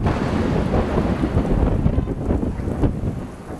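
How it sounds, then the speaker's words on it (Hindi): Heavy monsoon rain pours down in Kolkata with rumbling thunder, a dense, loud, continuous roar mixed with wind gusts and no voices. "कोलकाता में भारी बारिश ने लोगों के लिए मुश्किलें बढ़ा दी हैं।"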